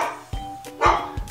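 A dog in a kids' animal-sounds learning app barks three times in quick succession, short sharp woofs close and clear with little else around them.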